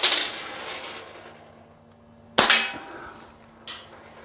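Two sharp outdoor cracks from a BB rifle, an Umarex Legends Cowboy Rifle or Daisy Red Ryder, the first loud and followed by a fading tail, the second fainter about a second later, with quiet gaps between.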